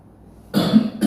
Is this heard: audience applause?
no